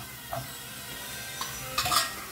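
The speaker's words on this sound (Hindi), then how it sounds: "अच्छे से इसे मिक्स करें। तो ये देखिए अच्छे से मिक्स हुआ है।" Fried prawns and egg being stirred into noodles in a pan, with soft scraping and a few light clinks of a utensil over a faint background sizzle.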